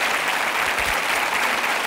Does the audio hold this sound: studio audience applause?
yes